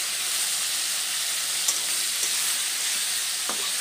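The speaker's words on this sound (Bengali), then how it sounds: "লোটে মাছগুলোকে একদম হাই আঁচে ভাজবেন, ভাজা ভাজা করে এটার ঝুড়ো আমাদের বানিয়ে ফেলতে হবে।" Small Bombay duck (lote) fish fry over high heat in a pan, making a dense, even hiss of hot oil with a few faint crackles and pops, close and without speech.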